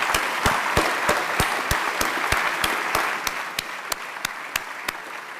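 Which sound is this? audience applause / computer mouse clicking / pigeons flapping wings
audience applause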